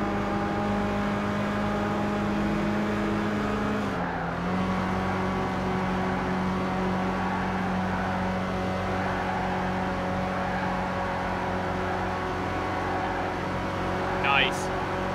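Porsche race car engines in the Gran Turismo 5 racing game make a steady, close, tonal drone that dips in pitch once early on, then holds a constant whine, with a short high chirp near the end.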